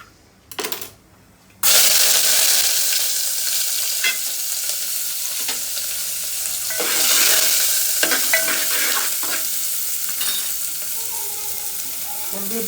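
Oil frying in a pan for pulao, with a short burst of sizzle, a pause, then continuous loud crackling and sizzling under repeated stirring and scraping strokes, close up.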